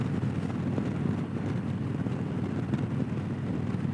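Steady rumbling drone of a Harley-Davidson Low Rider ST motorcycle at riding speed, heavy wind buffeting the microphone throughout and no one speaking.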